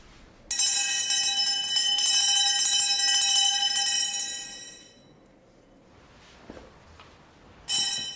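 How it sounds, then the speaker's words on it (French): A bright metal bell rings in a Zen temple meditation hall to wake the young priests, one sustained ringing tone fading over several seconds, then struck again near the end, with faint room noise between. "Quand Miyazaki est prêt pour la méditation, on sonne une cloche, afin de réveiller les jeunes prêtres."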